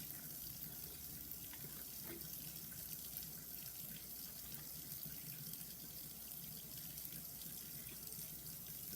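Hot water runs from a tap into a sink during an Xbox 360 restoration cleanup, a steady faint hiss and splash that continues evenly throughout with no talking.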